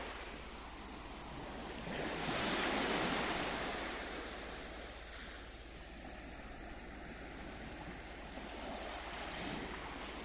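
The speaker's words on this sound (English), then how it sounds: "the water is a licking and a lapping the water's edge" Sea waves lap along Lara Bay Beach in Akamas, Paphos, Cyprus, a steady broad wash that swells and recedes, with a stronger surge early on and light wind noise, no voices.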